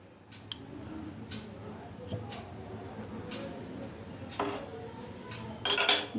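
Momo dough being mixed in a bowl with salt and white oil, giving soft irregular scrapes and occasional clinks of utensil against the bowl, close and fairly quiet, with a sharper clatter near the end.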